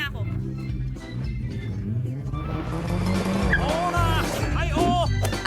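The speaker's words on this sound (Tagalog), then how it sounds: "Ayan ang racetrack para sa aking mga astig na kotse" Cars race around a racetrack, with skidding tire squeals and revving engine noise mixed with voice-like calls and music, the squeals growing louder and more frequent toward the end.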